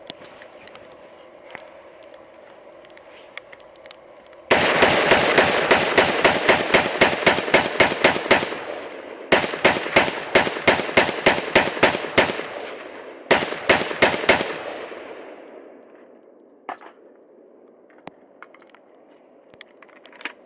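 A Noveske rifle fed from a 40-round PMag fires in three rapid strings of loud, sharp reports, the first and longest lasting several seconds, with brief pauses between bursts and a few scattered shots and a faint background hum after.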